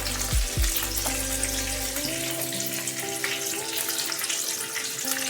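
Curry leaves and slit green chillies, added after mustard seeds, frying in hot oil for dhokla tempering, giving a steady close crackling sizzle with a few low thumps at the start and a faint tonal hum throughout.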